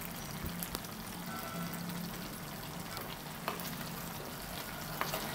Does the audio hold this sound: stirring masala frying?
yes